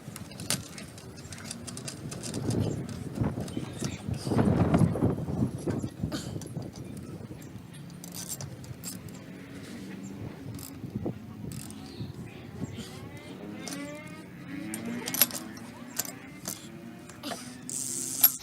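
A bicycle chain being tightened on the rear wheel after a flat tire repair, with a run of close metallic ratcheting clicks and rattles and faint voices in the background.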